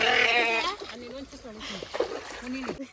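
A sheep being washed bleats loudly up close at the start, followed by a few shorter wavering bleats amid splashing water.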